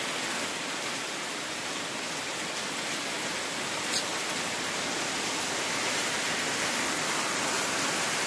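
Heavy rain pours down in a dense, unbroken hiss, steady and loud throughout with no voices.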